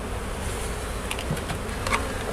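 Honeybees buzz at an open hive during a spring inspection in Paris, a dense, continuous swarm hum close by, with a few sharper passing buzzes of individual bees near the listener.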